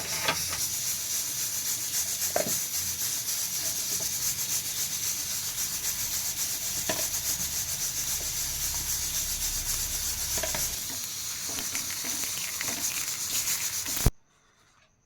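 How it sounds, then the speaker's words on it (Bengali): A papad is pressed and rubbed against a hot pan to roast it, producing a continuous close scraping, rasping texture with occasional soft knocks, which stops abruptly near the end. "পাপড়টা ভাজা হয়ে যাচ্ছে এরকম করে নিতে হবে"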